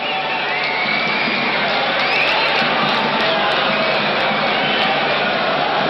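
An ice hockey arena crowd at the 1993 world championship game between Canada and Finland roars loudly and continuously after a hit by Lindros, a dense wall of cheering with scattered whistles and shouts.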